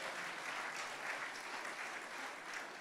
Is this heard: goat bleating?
no